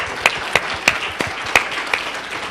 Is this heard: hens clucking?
no